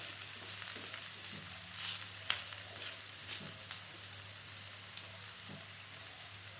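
Roti frying golden in a pan, a steady soft crackling sizzle with faint pops and scrapes, close and quiet, no voices.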